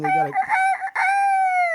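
A person imitates a rooster crowing, giving a loud, drawn-out cock-a-doodle-doo close to the listener, preceded by a couple of quick spoken words.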